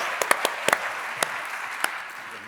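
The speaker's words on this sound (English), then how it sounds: "Give Dan a huge round of applause, ladies and gentlemen." Studio audience at an Edinburgh TV Festival live Blockbusters game show applauding a contestant, a steady wash of crowd clapping with a few sharper individual claps standing out near the start, moderately loud and without speech.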